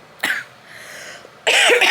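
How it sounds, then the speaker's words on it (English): Two sharp coughs, one brief and one heavier and longer, with a quiet pause between them. "Sorry, I keep coughing."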